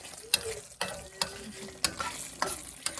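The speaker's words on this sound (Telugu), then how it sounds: "1 స్పూను విప్ క్రీమ్ వేసుకొని బాగా కలుపుకొని ఒక 1 మినిట్ ఉడికించుకోవాలి" Palak paneer being stirred in a pan with a spoonful of whipped cream, a spoon scraping in several close, uneven strokes over a soft sizzle, with no voices.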